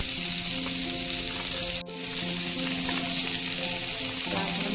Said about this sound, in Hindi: प्याज टिके पकेइली कोबी टिके पकेइली